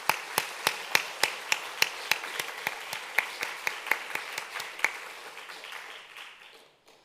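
A church congregation claps in steady unison, crisp evenly spaced beats in a brisk rhythm that soften and trail off into quiet near the end.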